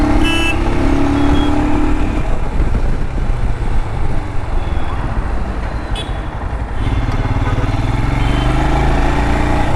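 A Royal Enfield Himalayan motorcycle being ridden, its engine a steady close droning rumble that shifts slightly in pitch as it goes, with wind rush over it and no talking.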